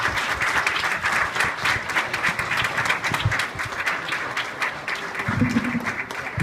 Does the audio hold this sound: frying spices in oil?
no